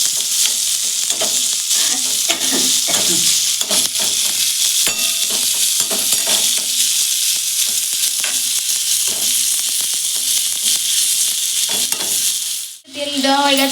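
Fish with onion and chilli fries in hot oil with a loud, continuous close sizzle and repeated scraping stirs, with a brief pause near the end, and no talk.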